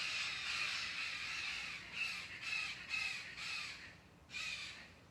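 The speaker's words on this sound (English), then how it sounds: "I think those are our green parrots." Green parrots calling outdoors in the morning, a run of harsh, raucous squawks in repeated bursts at moderate distance over steady background hiss, with no talking.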